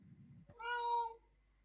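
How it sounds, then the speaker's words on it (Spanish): A single clear cat meow, close and fairly loud, about half a second long, rising then falling, following a brief low rumble, with silence around it. "¿Un gato?"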